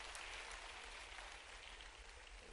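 An audience applauds at an agricultural innovation dialogue event in Bhopal's Ravindra Bhavan, a soft, steady wash of clapping heard faintly and evenly throughout, with no one speaking over it.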